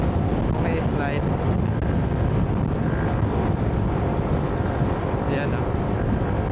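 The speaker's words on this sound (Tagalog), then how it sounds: "malakas yung hangin na bumabanda sa atin" Strong wind buffets the microphone while riding a motorcycle, a steady loud roar of rushing air and road noise running continuously throughout, with faint talk underneath.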